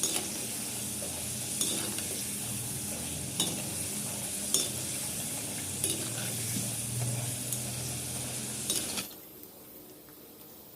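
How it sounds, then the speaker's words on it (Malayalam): Batches of potato French fries deep frying in oil, a steady bubbling sizzle with occasional metallic clinks of utensils, fairly quiet, the hiss cutting off near the end. "നമുക്ക് അടുത്ത ബാച്ചും ഇതേപോലെ തന്നെ ഫ്രൈ ചെയ്തെടുക്കാം"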